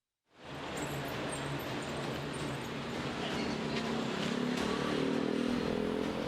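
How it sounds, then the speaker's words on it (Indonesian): Motorcycles fitted with loud aftermarket brong exhausts roar in traffic, a dense, continuous rumble that swells in quickly and holds steady at close range for several seconds with no speech. "Sejumlah pengendara sepeda motor yang menggunakan knalpot brong terpaksa diberhentikan petugas kepolisian"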